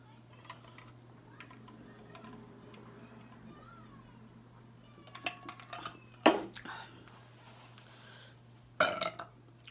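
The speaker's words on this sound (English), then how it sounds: "That was the first time I ever burped on camera" Burps after drinking strong canned soda, with quiet rustling and small clicks at first, then a loud, close belch followed later by a second burst near the end.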